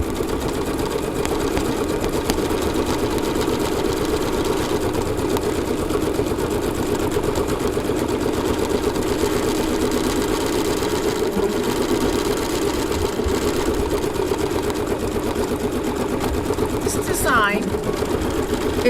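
A Bernina B790 Pro embroidery machine stitches out a design with a steady, fast mechanical whir and needle clatter running continuously at an even level throughout.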